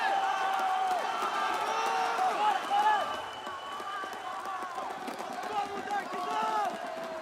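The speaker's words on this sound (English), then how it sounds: "I'm hearing the crowd." Esports crowd at a Rainbow Six Siege quarter-final cheering and whooping in waves, heard under a close voice talking throughout.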